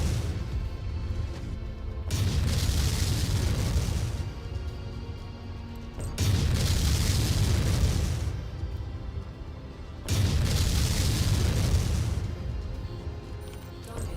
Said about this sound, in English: Let me see if these missiles can find their target. They can. Seems like it. Commence fire.